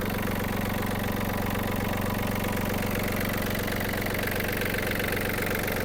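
A Yanmar F-200 mini tractor engine idles steadily and loudly, a constant mechanical chugging rumble with no pauses or voices.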